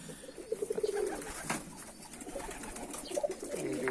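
Ornamental pigeons coo in soft, repeated bursts within a busy breeding loft, set against a steady hum of background activity.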